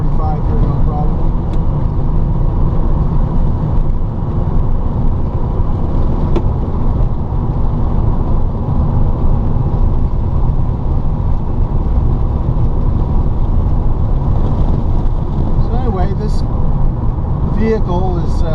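Electric VW Beetle, a DIY EV conversion, driving and taking a corner at about 45, giving a steady low road and cabin rumble throughout with no engine note, mixed with continuous talk from inside the car.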